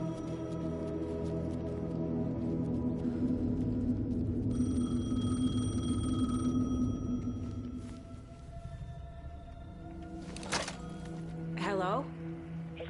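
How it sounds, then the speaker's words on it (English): A payphone rings in the Alan Wake 2 video game, with repeated bright electronic ring bursts over a dark, droning ambient game soundscape. "The payphone was ringing."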